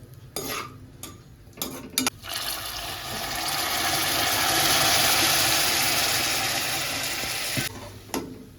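Almonds, cashews and raisins frying in hot ghee give a steady broadband sizzle that swells in the middle, with occasional stirring clinks and scrapes of a spoon near the start and end; no talking.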